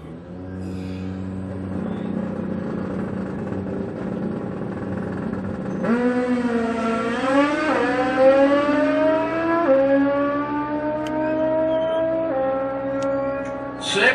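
Turbocharged Outlaw Pro Street drag bike making a full 6-second pass, its engine note climbing loud and steep through successive gear shifts, rising pitch dropping at each change before climbing again, close and alone.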